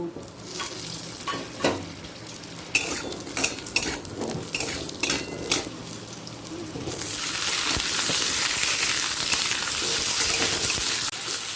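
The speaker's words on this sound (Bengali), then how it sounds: "এই তেলের মধ্যে প্রথমে আলু আর এঁচড়টাকে হালকা ভেজে নেব" Potatoes and young jackfruit fry in a little oil in a kadai, with clinking, scraping stirs and spatula knocks against the pan at first, then a loud, steady, even sizzle taking over.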